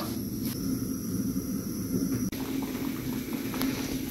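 Peach jam boiling in a pot, a steady close-up bubbling hiss with soft pops throughout, no voices.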